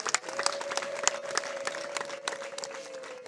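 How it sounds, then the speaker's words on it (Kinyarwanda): A congregation claps in quick uneven bursts, with a sustained high wavering tone like ululation running through the applause, moderately distant. "tuyongera amashyi n'impundu tuyishimire."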